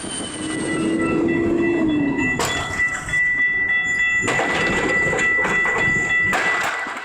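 At a level crossing in the San Fernando Valley, California, a passing train rumbles loudly close by. A brief horn tone comes first, then wheel squeals and rhythmic clatter.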